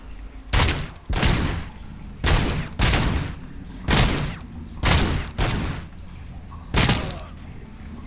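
Gunfire rings out in the Robocop Rogue City video game, about nine loud, sharp bursts spaced roughly every second, each with a brief echoing tail.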